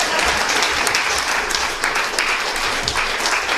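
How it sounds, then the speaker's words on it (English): A burst of audience applause at a ukulele festival performance, dense and steady clapping from a sizable crowd, filling the few seconds at full volume. "You can applause now if you want"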